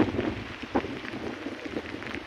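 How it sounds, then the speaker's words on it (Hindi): Rain falls steadily in the mountains in a broad, close hiss with scattered louder drops and patters, no voices. "गाइस देखिए बारिश बहुत तेजी से हो रही है।"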